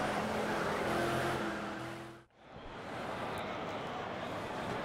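A GT Mark IV race car engine in the racing video game Project CARS drones loudly and steadily, dips sharply for a moment as if shifting or lifting off, then roars back up with a broad, continuous rush.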